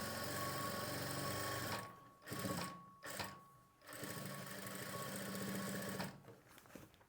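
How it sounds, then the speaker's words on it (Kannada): A sewing machine stitching a straight seam on blouse lining runs in a steady whirring hum, with two short pauses before it starts up again, close and alone. "ಇದಕ್ಕೆ ಸ್ಟ್ರೈಟಾಗಿ ಒಂದು ಹೊಲಿಗೆ ಹಾಕ್ಕೊಂಡ್ರೆ ಇದು ಫುಲ್ ಫಿನಿಶಿಂಗ್ ಆಗುತ್ತೆ"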